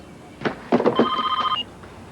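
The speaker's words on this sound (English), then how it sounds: "Just let me answer the phone." A telephone rings indoors, an electronic trilling burst lasting over half a second, heard just after a few short speech sounds nearby.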